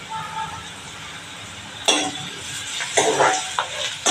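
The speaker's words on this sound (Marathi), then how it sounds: "खमंग चांगला तडका तयार करायचा" A tadka of oil and green chili for a Konkani kulith zunka sizzles in a pan, broken by sharp metallic clinks and scraping as a spoon stirs it close by.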